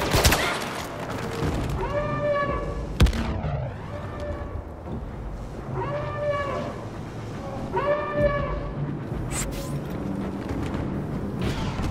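Blaster fire aimed at an AT-AT walker in the Star Wars Battlefront video game, with repeated bursts of laser shots over a dense, steady battle din, plus one sharp loud crack near the third second.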